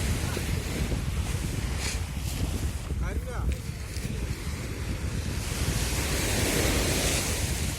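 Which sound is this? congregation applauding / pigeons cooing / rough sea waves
rough sea waves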